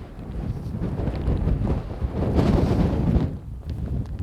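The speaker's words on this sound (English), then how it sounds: "Wind's absolutely howling." Strong wind buffets the microphone in steady, roaring gusts on a golf course, swelling louder midway before easing slightly, with no voices.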